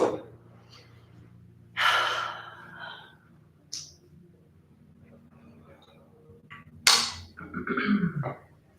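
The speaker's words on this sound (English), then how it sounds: "just take some deep breaths." Slow, deep breaths taken during a seated relaxation exercise, a few distinct airy inhales and exhales spaced apart against quiet, close to the microphone.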